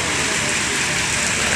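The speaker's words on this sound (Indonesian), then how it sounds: "Di mana di sore hari ini hujan." Afternoon rain falling steadily near a roadside bus stop, a dense, even hiss of drops hitting surfaces with no pauses.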